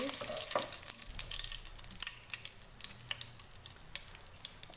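Whole spices, including green cardamom, a cinnamon piece, cumin, cloves and black pepper, fry in hot oil for a Pakistani chicken salan, a crackling sizzle with quick scraping stirs, close and fairly loud.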